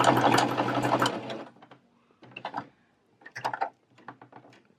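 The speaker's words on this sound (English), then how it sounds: "And then I sew again." A domestic sewing machine stitches fabric for a bralette, starting with one dense burst of rapid needle clatter, then short stop-start runs of stitching separated by pauses.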